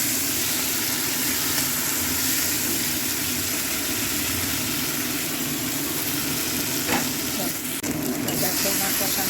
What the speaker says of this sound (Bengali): পেঁয়াজ, আদা, রসুন দিয়ে কষিয়ে নেব